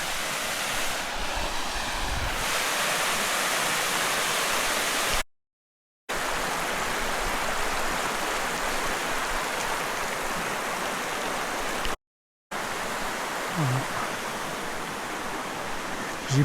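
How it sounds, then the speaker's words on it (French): Small mountain waterfall on the hiking trail from Samoëns to the Lac de Gers refuge, a loud, continuous rushing roar of falling water heard close up, broken by two short silent cuts. "Voilà, mini cascade."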